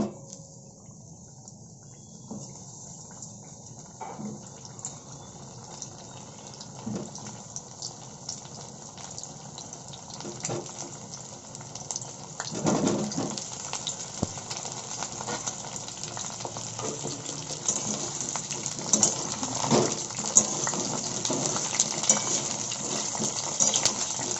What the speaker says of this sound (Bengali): আবারও এই তেলে পটলগুলো ভেজে নেব।